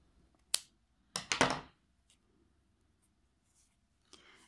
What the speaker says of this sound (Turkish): bir tane zincir çekiyorum ve makasımızla kesiyoruz